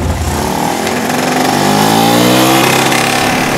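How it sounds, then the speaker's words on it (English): A motorcycle engine revs up, its pitch climbing steadily over a couple of seconds before easing back, loud and close. "Wait, listen to my motorcycle."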